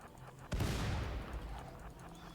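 A tox grenade bursting in RimWorld, a single sudden blast followed by a hissing, rushing spray that fades over the next second or two, moderately loud and alone.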